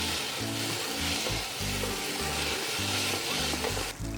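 Kuay teow noodles stirred and frying in a hot pan, a dense continuous sizzle close up with rhythmic low scraping thumps as the noodles are pushed around and spread out, no voices.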